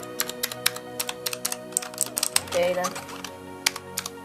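Keys clacking on a new gaming keyboard with a number pad, a quick run of crisp close taps with a short burst of faster typing in the middle, while a voice speaks briefly.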